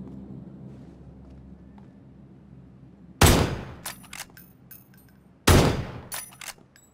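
Winchester 94 lever-action rifle shots in the video game PUBG: two loud, sharp reports a couple of seconds apart, each followed by metallic clicks of the action cycling, against quiet ambient background.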